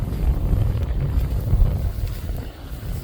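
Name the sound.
blustery wind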